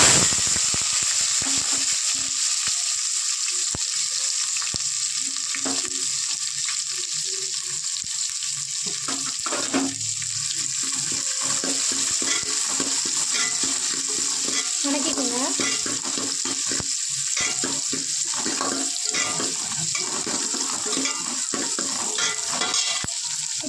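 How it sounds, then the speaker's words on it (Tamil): Small onions and curry leaves frying in hot oil with mustard, fenugreek and cumin for a ghee fish kuzhambu, a bright continuous sizzle with frequent stirring and pan clatter, close and steady for the whole stretch. "இப்போ சின்ன வெங்காயமும் கருவேப்பத்திலையும் போட்டுக்கலாம்"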